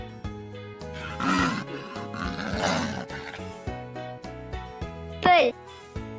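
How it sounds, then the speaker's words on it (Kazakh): Cartoon zebra sound effect: a short, high, whinnying neigh rising and falling near the end, following breathy roaring noises over light background music. "Теңбілшер."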